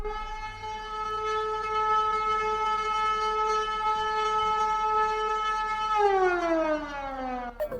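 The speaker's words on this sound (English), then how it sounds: "What the hell is that siren?" A loud, sustained siren in the video game Super Danganronpa Another 2 wails steadily for several seconds, then its pitch slides downward as it winds down near the end.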